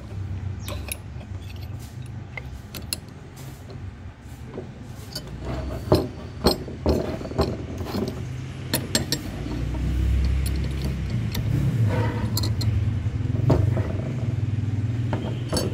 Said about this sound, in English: We clamp it tight, and then we screw this